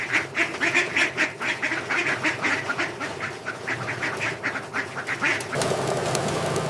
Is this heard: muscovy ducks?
yes